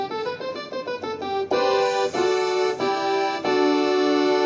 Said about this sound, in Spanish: de diente de sierra, que es la que suena así